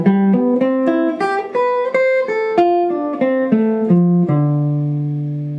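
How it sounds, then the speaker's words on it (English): Clean guitar plays two linked two-octave diatonic arpeggios, single notes stepping up then back down in an even rhythm, closing on a sustained ringing note, close and alone with no talk. "So together those two arpeggios will sound like this."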